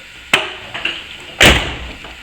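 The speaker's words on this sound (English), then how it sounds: "we're going to shut the door." A sharp click is followed by a heavier solid thump as a 1982–1992 Camaro door swings shut, close by and with no talking.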